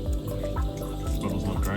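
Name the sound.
pouring 3% hydrogen peroxide into hydroponic reservoir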